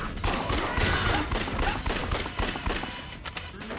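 Rapid, dense gunfire in the zombie shooter Yakuza: Dead Souls, with overlapping shots in quick bursts, loud and close throughout and little pause between volleys.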